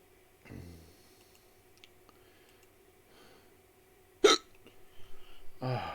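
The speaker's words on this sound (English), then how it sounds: "These hiccups are so annoying." A person's hiccups, two or three sharp, close gulping bursts with quiet pauses between them and no speech.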